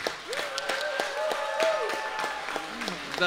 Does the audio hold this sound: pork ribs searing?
no